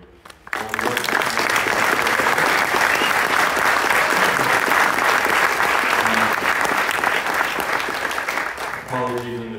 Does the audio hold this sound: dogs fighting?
no